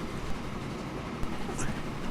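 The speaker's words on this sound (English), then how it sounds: "Before or just as my train gets back to the station with the next load of cargo" A cargo train rolls into a station in Transport Fever, a low steady rumble of wheels with a soft clack near the middle and a faint chime-like tone, moderately loud and continuous.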